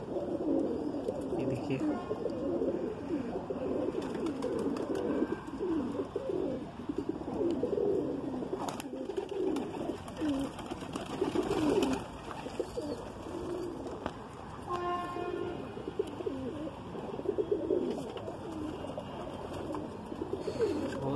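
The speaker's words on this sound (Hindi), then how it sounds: "ये देखिए मेरा जालदार कबूतर है" Madrasi pigeons in a loft coo repeatedly in soft, rolling calls that continue throughout, close and moderately loud, with someone talking over them at times.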